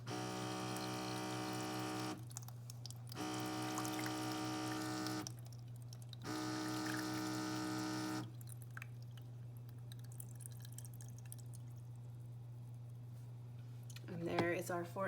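A Baby Brezza Formula Pro Advanced machine dispenses water in a steady electric hum, stopping and starting in several bursts before falling quiet, ending with a soft clatter.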